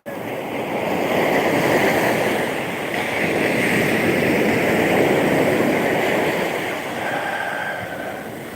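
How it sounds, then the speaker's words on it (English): Steady rushing wash of surf, swelling and easing gently over several seconds, loud and close with no voices. "nature at peace, standing with the waves."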